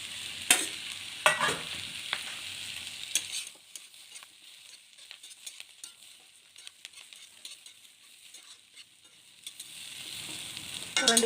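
Boiled sweet potato stir-fried with chili powder and curry leaves in an oil-filled pan: a scraping stir and close sizzle at the start, a quieter stretch of soft frying, then more stirring and sizzling at the end.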